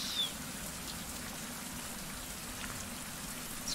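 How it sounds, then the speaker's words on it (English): Steady rain falls in the tropical survival crafting game Survival: Fountain of Youth, a constant soft hiss with no break and no voices. "So, all the time raining, it's like in the tropics."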